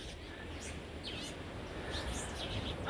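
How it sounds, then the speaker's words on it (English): Red-rumped orioles singing in the background on a morning beach walk, thin chirps and whistled calls scattered over a steady wash of ambient noise. "There's so many orioles. That's what you hear in the background right now. They're the red-rumped orioles"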